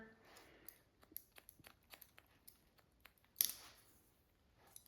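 Scissors snip in quick, crisp, irregular clicks while point cutting hair for a short pixie cut with full bangs, close and fairly faint, with a slightly louder burst of snips partway through and no talking.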